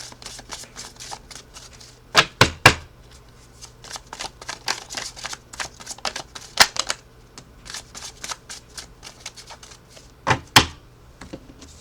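Tarot cards are shuffled by hand in quick riffling bursts, with sharper slaps and taps at a few moments, close and fairly loud, with no talking.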